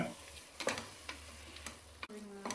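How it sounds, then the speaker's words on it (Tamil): Prawns mixed with masala and curd in a pan for prawn biryani, with faint scattered scrapes and taps of a spoon over a low, quiet background. "இப்போ வந்து அதையும் நல்லா மிக்ஸ் பண்ணி விட்டுருக்கோங்க"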